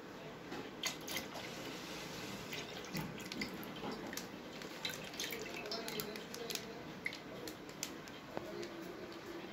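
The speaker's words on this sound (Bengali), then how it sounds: "আমি যে পাত্রে দুধটা জাল করব সেখানেই আমি দুধটাকে আগে ঢেলে নিচ্ছি" Milk pours into a cooking pot with a steady liquid splash and small dripping trickles, continuous at moderate volume.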